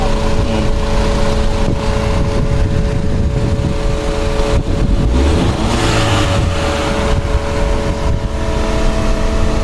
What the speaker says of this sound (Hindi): ये साउंड सुन सकते हैं इंजन की आप।